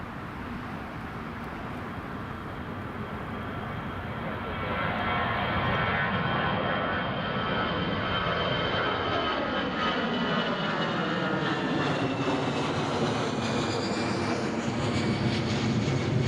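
An EasyJet airliner bound for Bristol at Newcastle Airport, its jet engines roaring loudly and continuously and building in intensity with a sweeping, shifting whine as it moves past.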